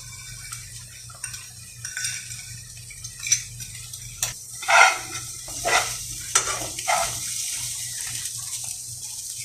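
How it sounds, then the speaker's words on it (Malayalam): A spoon or spatula stirs frying egg in a pan, scraping and clinking in a steady series of strokes over a soft, continuous sizzle of oil and moisture. The sounds are close and moderately loud, with a few sharper scrapes midway and no voices. "നല്ലോണം ഇളക്കണം."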